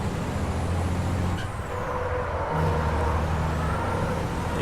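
Mack racing truck in an FIA European truck racing game, a deep steady engine drone with a brief dip midway and a hissing air-brake release, sustained and close with no talk.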